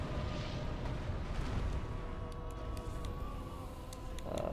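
A big explosion in the video game Dark Souls 3 sounds as a broad, loud, sustained rumbling roar. It stays dense and steady for several seconds, with a few sharp crackles near the end.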